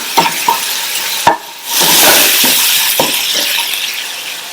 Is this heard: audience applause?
no